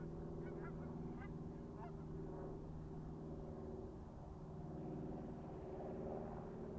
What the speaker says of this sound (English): I've got that bird there